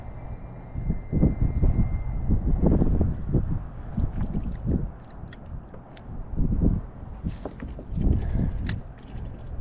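Wind buffets the microphone during a kayak outing on tidal water, a low, gusting rumble that swells and fades unevenly throughout, with no voices.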